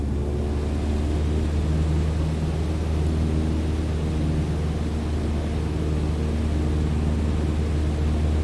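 A light aircraft engine in Microsoft Flight Simulator holds a steady cruise setting of 2,300 RPM, droning evenly and continuously at close range with a low hum throughout.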